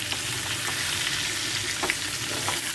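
Brinjal frying in a pan with curry leaves, a loud continuous close-up sizzle with a few soft stirring taps.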